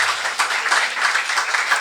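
A church congregation claps loudly during a Sunday service, a dense, sustained patter of many hands with steady rhythmic pulses and no talk over it.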